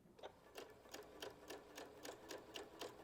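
A sewing machine stitches twill tape along the edge of a circle skirt, a quiet, steady run of evenly spaced mechanical ticks at a regular, brisk rhythm, heard close and alone.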